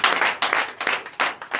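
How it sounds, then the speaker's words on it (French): Church congregation clapping in rhythmic bursts during a night deliverance and prophecy service in Benin, four or five strong waves of applause in quick succession, fairly close and lively. "Donnez l'acclamation."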